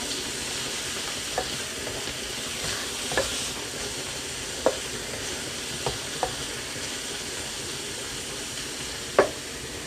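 Minced pork with seasoning sauce is stir-fried in a hot pan, giving a constant close sizzle punctuated by scattered spatula clicks against the metal.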